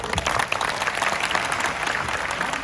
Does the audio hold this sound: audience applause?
yes